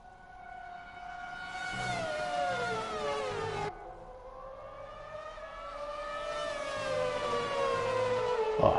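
Racing car engines passing during a race, two high, rising and falling engine whines that sweep past in turn, moderately loud with no talk over them.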